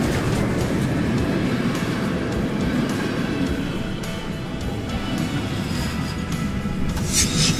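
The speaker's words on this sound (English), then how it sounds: "Steam trains are old-generation railway vehicles used to transport passengers and goods." A coal-fired steam train rolls along the rails, a dense, continuous rumble and rattle of cars that stays loud and even throughout, with faint clatter over the top.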